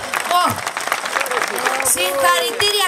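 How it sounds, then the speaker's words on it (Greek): Audience applause at a nursery school performance where very young children danced Greek folk dances, a dense, steady clatter of clapping throughout, mixed with excited voices and children's chatter. "Χειροκρότημα δυνατό από όλους."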